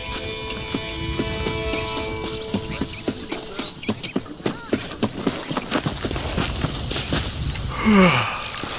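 Horse hooves clip-clopping in the video game Red Dead Redemption, a steady run of close, distinct hoofbeats over ambient outdoor sound with faint birds, ending with a brief horse snort or whinny.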